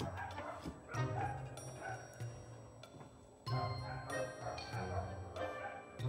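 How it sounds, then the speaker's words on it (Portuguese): Several neighborhood dogs bark off in the distance at night, intermittent yaps over a steady low background hum, with occasional faint clinks. "Os cachorros da vizinhança latindo já."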